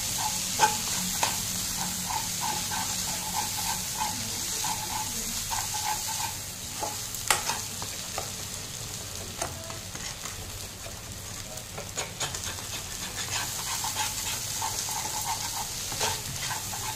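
Bombay duck fish jhuri with chopped coriander frying steadily in a pan, a constant sizzle and hiss broken by repeated scraping stirs of the spatula, close and alone without talk.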